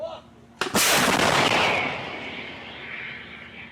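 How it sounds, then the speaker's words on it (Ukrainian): A single powerful artillery blast booms out close by, followed by a long rolling roar and echo that slowly fades. "Командир гармати дає каже, що готові, і ми робимо постріл. Гармата!"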